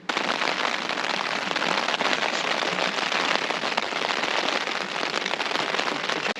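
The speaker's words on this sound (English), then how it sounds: "just listen to the noise of the rain on the tent for a bit." Steady rain drumming on a tent while camping on a hike in the Forest of Bowland fells, a dense, close patter of drops on fabric that continues evenly throughout, with no voices.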